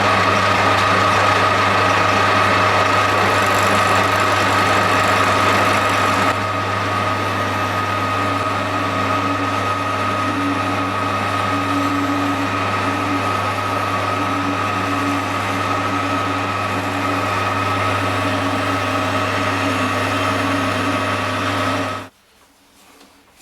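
A milling machine makes light passes on a laminated timber hammer handle, a loud steady motor hum with a whining tone and a faint cutting rasp for about twenty seconds before it cuts off abruptly.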